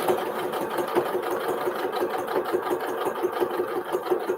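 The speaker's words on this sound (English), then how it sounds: "I'm going to do a little back stitch." A Janome sewing machine back-stitches on quilt binding with a steady, close mechanical whir and rapid needle chatter throughout, with no talking.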